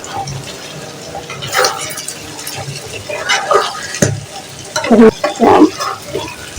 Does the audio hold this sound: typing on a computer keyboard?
no